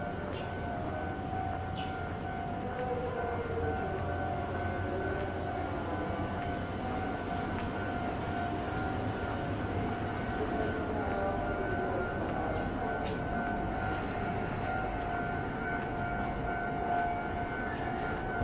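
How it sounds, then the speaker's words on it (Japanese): A railroad crossing warning bell rings steadily at a distance near a private rail line by Takasago Station, with a continuous tone over outdoor street ambience and no pauses. "踏切の音が"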